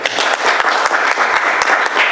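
Applause at a city council meeting in Dunsmuir, a steady patter of clapping hands from a modest crowd indoors, filling the short stretch without talk.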